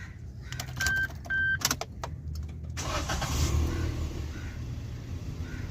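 A 2022 Suzuki Alto with a noisy alternator bearing is started with its self starter: a few electronic beeps and clicks, then the engine cranks and catches, settling into a steady close idle.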